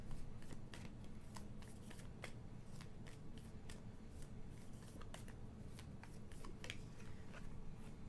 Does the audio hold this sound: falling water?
no